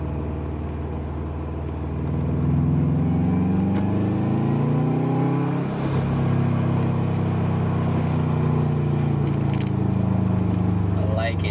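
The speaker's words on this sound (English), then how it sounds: "I just want to hear the blow off valve, so I gotta rev my RPMs high enough to get some boost." A Subaru with a Perrin blow-off valve revs up through rising engine tones, then the revs drop with a brief airy release, recorded close with a lingering idle.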